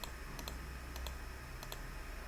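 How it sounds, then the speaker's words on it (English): Rapid clusters of light key clicks from a keyboard, pressed in short irregular bursts over a steady background hum, alone with no talking. "Stop pressing clicking buttons."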